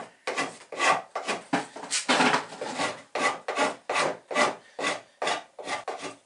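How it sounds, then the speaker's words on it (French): Spokeshave rounding the top of a wooden transom on a small toy Barfleur boat, a close series of about fifteen rasping strokes in a steady back-and-forth rhythm. "À l'aide d'un bastringue, on va arrondir"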